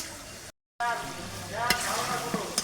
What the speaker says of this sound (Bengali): যতটুকু পানি উঠবে ততটুকু পানি দিয়ে আমি মাংসটা কষাবো